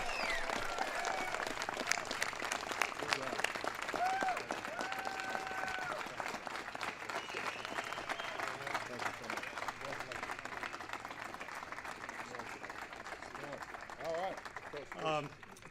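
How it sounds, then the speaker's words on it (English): A crowd at a White House ceremony honoring the Super Bowl champion Denver Broncos applauds at length, dense sustained clapping with cheers and voices woven through. "Big round of applause."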